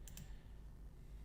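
A computer mouse clicked twice in quick succession near the start, sharp faint clicks over a quiet room hum, no talking.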